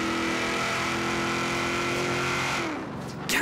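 An HSV GTS Maloo ute's engine revs hard in Forza Horizon 3, a loud, sustained throaty drone holding steady before the pitch drops and then sharply rises again at the end.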